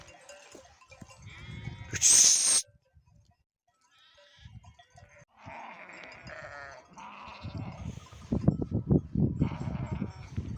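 Sheep bleat repeatedly at close range, several animals calling over one another in short, wavering cries, with a brief sharp clatter near the start, as a shepherd's flock is guarded by Kangal and Akbaş dogs.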